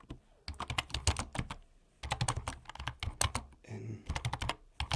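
Close, crisp typing on a computer keyboard while programming, with rapid clattering runs of keystrokes separated by short pauses and a faint voice murmuring at one point.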